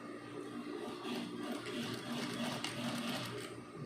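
Sewing machine stitching a gown skirt, a steady close motor whir with quick rhythmic needle clatter running continuously, no talking.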